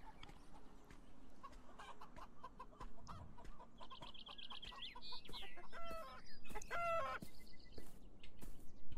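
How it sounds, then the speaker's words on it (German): Chickens cluck in the video game Beyond Eyes, a series of short, fairly quiet clucks and squawks clustered toward the second half over a soft outdoor ambience. "Kann ich die Hühnchen in die Freiheit lassen?"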